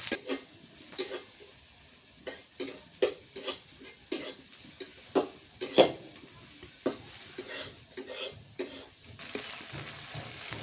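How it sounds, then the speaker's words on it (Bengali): Peanuts fry in a pan with a continuous low sizzle while a spoon scrapes and knocks against the metal in a steady rhythm of repeated stirring strokes, close and clear. "বাদাম দিয়ে দিই এটা লাল লাল করে ভাজিয়ে নিই"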